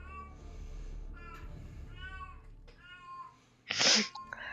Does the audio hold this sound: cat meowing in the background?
yes